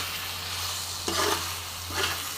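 Chicken dal with mixed vegetables being stirred in a pan over a low constant hum, with two short bursts of scraping and sizzling frying.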